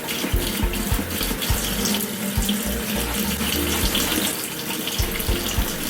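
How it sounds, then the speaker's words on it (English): Hot water runs steadily from a tap into a sink while a lace frontal wig is rinsed, a continuous close rushing splash with uneven low thumps and gurgles throughout. "And I'm still running this on hot water."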